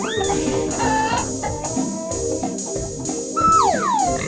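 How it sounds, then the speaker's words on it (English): A cartoon chicken gives a quick run of close, loud clucks and squawks, ending in a rising, drawn-out crowing call, with no voices. "Chicken."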